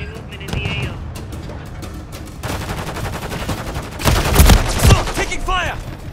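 Call of Duty combat gunfire, dense rattling bursts from several weapons mixed with heavier booming impacts, loud and chaotic, with shouted radio-style voices cutting through the fighting.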